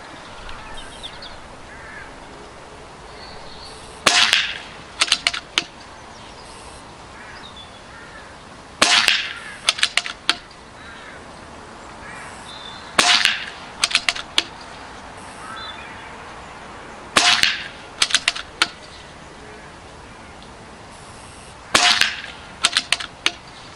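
A Kervan Airboss Lord C5 Black Mamba airgun fires a steady string of shots at a target: five sharp, close cracks, each followed by quick metallic echoes and target strikes, repeating roughly every four to five seconds.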